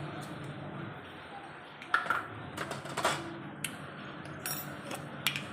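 Mustard seeds spluttering in hot oil in a kadhai, scattered small crackles and sharp pops at irregular intervals over a quiet sizzle, close up.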